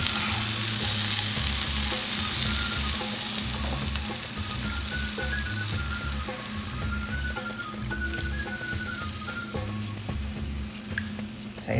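Fish fillet curry with spinach sizzling and simmering in a pan just after fresh coconut milk is added, with a steady close bubbling fry and the scrape of a spoon stirring through it, no voices.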